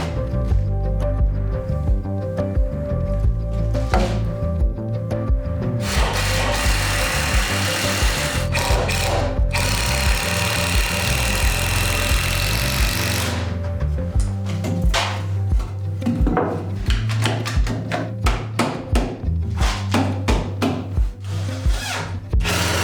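A power screwdriver drives screws through a stone cabin's wall frame into a floor joist, with busy whirring bursts and wooden knocks and rubbing throughout, fairly loud and close, with no talking.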